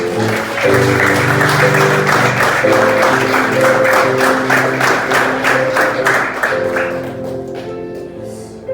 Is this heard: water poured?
no